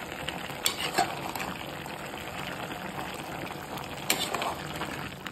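A spoon scrapes and stirs through chicken gravy in a pan, with a soft sizzle underneath and a couple of sharper clinks against the metal.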